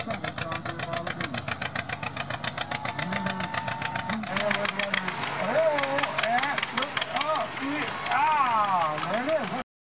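A 1937 John Deere Model B tractor at an antique tractor pull at a county fair gives a steady, rapid putting engine beat, clearly heard under continuous announcer commentary.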